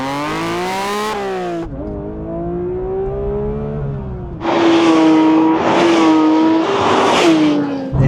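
A sports car's engine is heard on the move: a smooth, tonal drone with a rising pitch, a gearshift dip, then a louder, brighter surge of acceleration that climbs and falls in waves.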